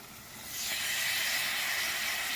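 Grated tomato drops into a hot pan for a potato and egg curry, setting off a loud, bright hiss that swells within half a second and then holds steady and close, with no talking.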